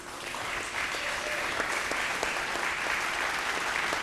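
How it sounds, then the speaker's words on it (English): A crowd at a televised vocal competition show applauds for the host venue partner, a dense, even wash of clapping that holds steady for several seconds with a few sharper claps near the front. "Round of applause for the Cosmopolitan"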